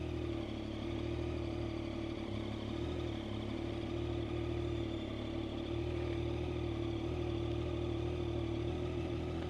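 A Yamaha Tracer 900 motorcycle engine with 9,000 km mileage idles steadily throughout, a constant low rumble with a mechanical clatter, close and fairly loud, with no talking.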